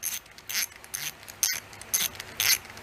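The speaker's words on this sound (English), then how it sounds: "I mean, it's a cheapy ratchet" A cheap hand ratchet wrench in a home shop clicks in quick bursts about every half second, with crisp, moderately quiet pawl clicks and no talking.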